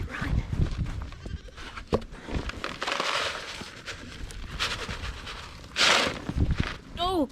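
Goats bleating on a farm, with shuffling hooves and footsteps nearby, loud close bursts of bleats rising near the end, mixed with handling noise.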